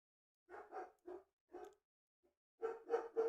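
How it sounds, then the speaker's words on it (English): Dogs bark in two quick bursts, a cluster of three or four short barks, a pause, then three louder barks close together, fairly near and clear with no talk over them. "Jeez, the dogs."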